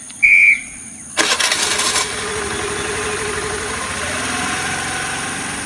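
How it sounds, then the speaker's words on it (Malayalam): A scooter engine cranks with a brief whirring start, then catches and settles into a steady, close idle. "അഷ്റഫ് മാഷെ മാഷെ ഇവിടെ മാഷിന്റെ സ്കൂട്ടർ എടുത്തോ നമുക്കൊന്ന് കറങ്ങിയിട്ട് വരാം"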